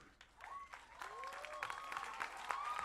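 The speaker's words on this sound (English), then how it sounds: "Give it up one more time for Team Sun City." A school event audience applauds a student team, a dense wash of clapping that swells and holds steady, with whistles and cheering rising above it.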